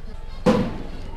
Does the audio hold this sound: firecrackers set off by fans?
yes